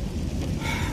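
Rain while driving a car down a steep hill: a dense, steady rush of rain and road noise with low rumble, loud and continuous through a short moment.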